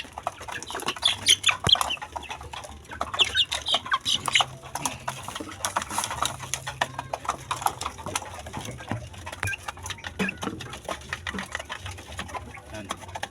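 A small flock of chickens, young stags and pullets, clucks and chirps close by in a busy, uneven patter, with someone talking intermittently beneath the birds.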